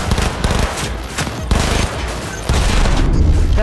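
Rapid heavy-recoil gunfire in Cyberpunk 2077 forms a loud, dense burst of overlapping shots with booming impacts that continues throughout, without talk.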